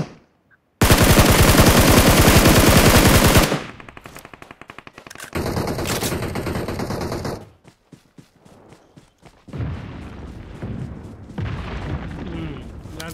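Heavy gunfire in PUBG on the Livik map, a long loud burst of rapid automatic shots followed by further volleys and scattered single cracks, with faint voice chat in places.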